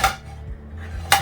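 Corelle dishes and plates clink as they are handled inside an RV kitchen, with a crisp ceramic knock at the start and another near the end and quiet rattling in between.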